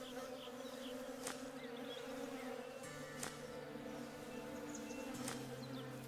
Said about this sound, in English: So I shot the bee's nest, angered the bees